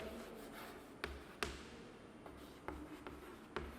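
A teacher handwriting examples during a biology lesson, soft scratching pen strokes broken by a few sharp taps as the pen meets the page, close and quiet, without speech.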